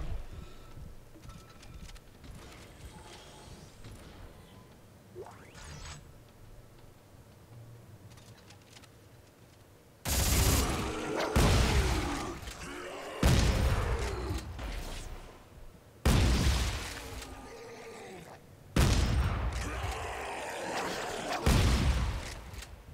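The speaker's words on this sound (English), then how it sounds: "the shotgun has got some punch to it, no question about it" A shotgun in the Dead Space 3 video game fires five loud, punchy blasts at roughly even intervals, each with a short echoing tail, following a quieter stretch of ambient game sound.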